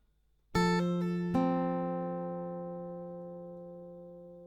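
Acoustic guitar chords: a quick strum, a second struck chord, then a long ringing decay that fades slowly, close and fairly quiet, with no voice.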